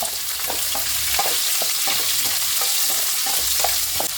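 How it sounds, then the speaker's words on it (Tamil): Chopped onions sauté in hot oil as the base of a kilangan fish curry, a dense continuous sizzle broken by regular, closely spaced stirring scrapes in the pan. "இப்போ வெங்காயம் நல்லா வதங்கி வரட்டும்"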